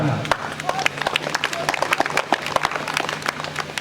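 Scattered, uneven clapping from a crowd at a village arts festival play, with individual sharp claps standing out and voices murmuring beneath.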